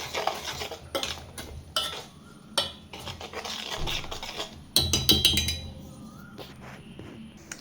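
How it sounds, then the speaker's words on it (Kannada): Rice flour, maida, chiroti rava and gram flour mixed in a bowl, with irregular scraping, tapping and clinking of a spoon against the vessel, close and busy, a faint sizzle underneath. "ಸೊ ಅಕ್ಕಿ ಹಿಟ್ಟು, ಸ್ವಲ್ಪ ಮೈದಾ ಮತ್ತು ಚಿರೋಟಿ ರವೆ, ಸ್ವಲ್ಪ ಕಡಲೆ ಹಿಟ್ಟು ಎಲ್ಲ ಹಾಕ್ಕೊಂಡಿದ್ದೀವಲ್ಲ, ನೀಟಾಗಿ ಎಲ್ಲ ಮಿಕ್ಸ್ ಮಾಡ್ಕೊಬೇಕು"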